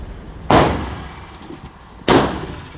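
Two loud, sharp gunshots from a Smith and Wesson 380 EZ pistol at a shooting range, about a second and a half apart, each with a quick ringing decay and no speech.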